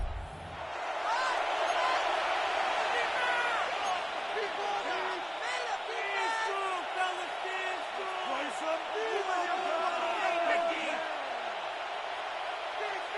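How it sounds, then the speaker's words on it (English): Dense stadium crowd roar in an EA Sports NFL video game during a third-down play, loud and sustained with overlapping voices, whoops and shouts across the whole stretch. "This crowd into it now as we get to third down"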